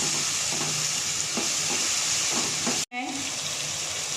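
Biryani masala with a few spoonfuls of water sizzles and bubbles in a pan while being stirred, a steady close fizz with soft scraping, broken by a brief sharp cut before the sizzle resumes.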